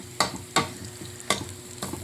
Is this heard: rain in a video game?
no